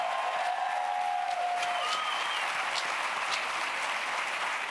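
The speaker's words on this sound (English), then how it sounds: "can we first give a round of applause to Tyrone Howard" Lecture-hall audience at an education research conference gives sustained applause for Tyrone Howard, a dense, even wash of clapping from many hands with faint tonal feedback early on.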